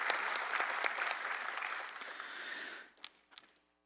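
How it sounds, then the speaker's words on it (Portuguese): Audience applauding a deputy as she walks up to the stage at an official public session, steady clapping from a crowd that fades out, followed by a few scattered final claps. "eu gostaria que vocês aplaudissem a deputada Paula Belmonte enquanto ela sobe"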